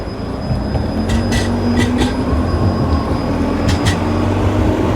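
A tram or train rumbles along a noisy track in a tunnel under Warsaw's city centre at night, a loud close roar with several sharp metallic squeals breaking through.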